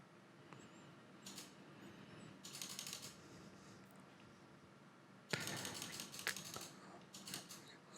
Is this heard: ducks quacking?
no